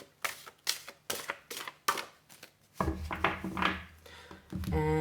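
Tarot cards shuffled by hand in a series of quick papery riffles and taps, close and fairly soft with brief pauses, then a denser rustling spread of cards.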